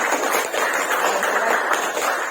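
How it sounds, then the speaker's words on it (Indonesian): Dense, steady applause from a classroom of students clapping for a classmate after her presentation, a continuous close patter of many hands with no break across the whole stretch. "Tepuk tangan buat Alda."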